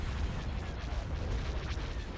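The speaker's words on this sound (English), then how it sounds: "Ion cannon firing." An ion cannon fires in the Star Wars: Empire at War space battle game, producing a rumbling run of heavy booming blasts that rolls continuously for about two seconds.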